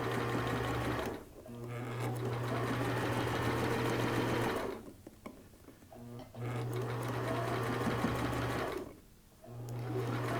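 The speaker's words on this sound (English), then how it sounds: "we're just going to sew right up to that 1 inch opening" A sewing machine stitches flat fabric for a turban in three long, steady runs of close, loud, even humming, separated by short pauses.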